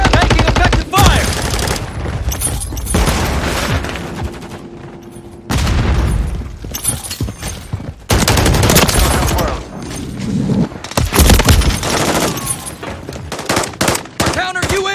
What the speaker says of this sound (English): Making effective fire!